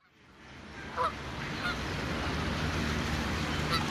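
Canada geese in an urban Los Angeles park give a few faint honks over a steady wash of broad background noise that swells up and holds.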